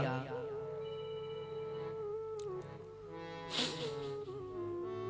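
A mobile phone ringtone goes off during a Hindu religious katha discourse, sustained melodic tones that hold and shift in pitch, moderately faint, with a brief burst of noise partway through.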